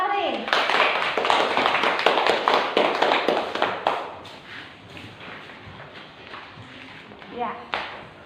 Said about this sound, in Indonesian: tepuk tangan untuk Fahri